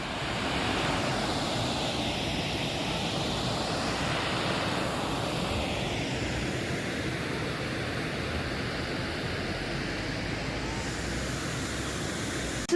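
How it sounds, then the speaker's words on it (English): Steady rushing water of a river flowing beside an old bridge built in 1903 in Leamington Spa, a broad, even wash of noise heard close and continuous with no talk. "I really like the sound of the water"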